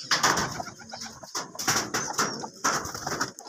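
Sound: pigeons cooing in a loft

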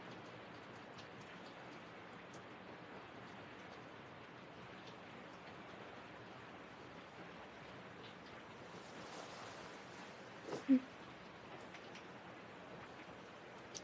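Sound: rain starting to fall

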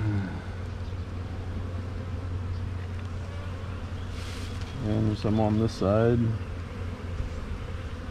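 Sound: bees buzzing at an opened hive

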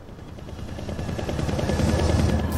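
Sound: helicopter crashing in video game Rogue Outbreak: Zombie War

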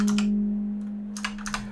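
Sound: typing an IP address on a computer keyboard

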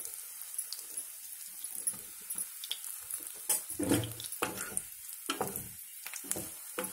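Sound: bread pieces frying in ghee

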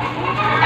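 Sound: chickens clucking

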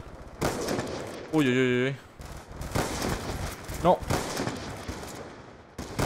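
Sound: gunshots from the video game

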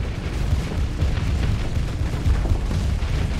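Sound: torpedo explosions hitting a station in Starsector video game

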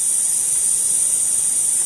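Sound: airbrush spraying paint

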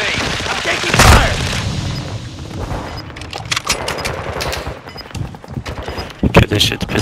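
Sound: gunfire in the video game Call of Duty: Modern Warfare II

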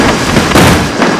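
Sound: Tesla car exploding in a KineMaster edit

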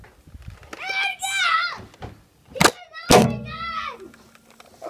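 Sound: thud of hitting a camera

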